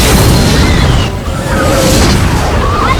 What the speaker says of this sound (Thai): เอา ยิงไป เอาปืนใหญ่ยิงไปปืนใหญ่